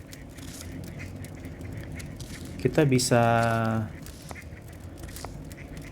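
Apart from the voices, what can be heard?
duck quacking ambient sound played from earbuds app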